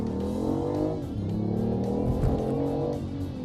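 The 1.5-litre engine of a BMW i8 revs and rises in pitch, with tonal sweeps over a continuous roar and a surging, fading note near the end, heard loud and close without speech.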